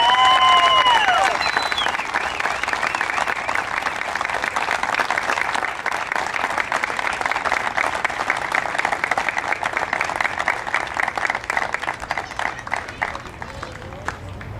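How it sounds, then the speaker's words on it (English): A stadium crowd at a Drury University baseball Senior Day gives a long, sustained round of applause and cheering for the team's fourteen seniors. A public-address voice trails off at the very start. "let's have one huge final round of applause for our 14 Drury baseball seniors"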